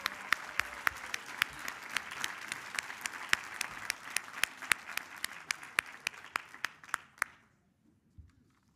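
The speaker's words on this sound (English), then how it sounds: "let's continue our applause for our health hero today" Luncheon audience applauding Maxine Frankel, a steady patter of many hands with distinct individual claps, fairly quiet and slightly distant, tapering off into near silence at the end.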